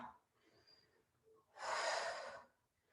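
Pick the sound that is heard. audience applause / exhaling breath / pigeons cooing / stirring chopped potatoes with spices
exhaling breath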